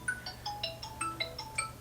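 A phone ringtone plays a quick run of bright electronic chime notes at an even pace, fairly quiet and alone.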